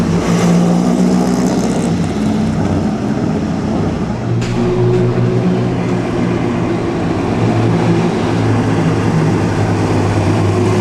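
Vintage race cars of the 2009 Mille Miglia, among them Bugatti, Ferrari, Alfa Romeo, OSCA and Allard, rumble steadily into a town square, with a loud continuous engine drone and a brief swell midway, nearby and unbroken throughout.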